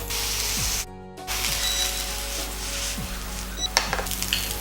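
Egg fried rice is tossed in a hot pan with cabbage and Schezwan and soy sauces, giving a loud continuous sizzle, a brief drop in the noise, and scraping and clanking strokes from stirring toward the end.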